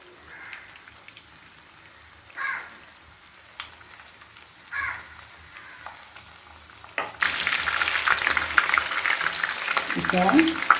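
Chicken drumsticks deep-fry in oil. The start is quiet apart from a few soft bumps, then a loud, dense crackling roar bursts in and keeps bubbling close up to the end, with no speech.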